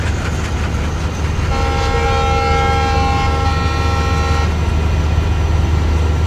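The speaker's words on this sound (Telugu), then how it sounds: "ఆహా ఈ ట్రైన్ వాడు గట్టిగా వెళ్తున్నాడు." A fast-moving train rumbles heavily along an Indian Central Railway route in Train Simulator, with a steady low roar of wheels and engine. A loud multi-tone horn blares for about three seconds in the middle.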